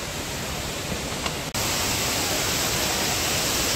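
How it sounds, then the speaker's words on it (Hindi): Kempty Falls waterfall in Mussoorie, a loud, steady broadband roar of falling water filling the whole clip, briefly cutting out around the middle before resuming unchanged. "मेन झरना ये है"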